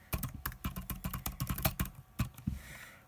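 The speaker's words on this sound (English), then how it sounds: "Let's type in an email address." Quick, uneven clicking of keys on a computer keyboard as an email address is typed, close and clear, with short pauses between bursts of keystrokes and no speech.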